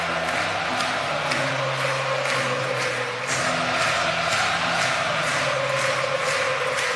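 A large crowd at Yankee Stadium during an ALDS Game 3 baseball game between the Yankees and Blue Jays roars in a dense, loud, continuous wash of cheering that barely dips.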